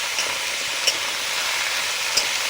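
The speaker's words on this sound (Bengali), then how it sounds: "সবজিগুলো ভালো করে কষে নেব।" Vegetables, including okra and amaranth stalks with some greens, frying in oil with turmeric, giving a dense, steady sizzle broken by a few light stirring clicks, with no voices.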